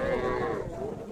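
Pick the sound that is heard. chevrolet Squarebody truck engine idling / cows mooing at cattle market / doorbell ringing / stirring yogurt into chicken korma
cows mooing at cattle market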